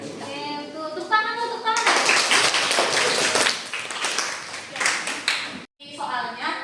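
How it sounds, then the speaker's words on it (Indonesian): Students in a classroom clapping their hands together, a burst of brisk, close claps that follows children's voices and then tapers off, with speaking around it. "Tepuk tangan."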